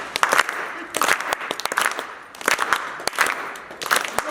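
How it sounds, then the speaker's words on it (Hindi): Audience at a birthday jagran clapping hands in several rhythmic bursts, a crowd of claps rising and falling with short gaps between rounds. "ताली बजाओ, सबकी ताली बजे"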